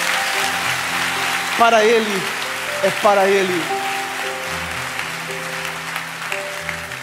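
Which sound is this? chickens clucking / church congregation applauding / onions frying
church congregation applauding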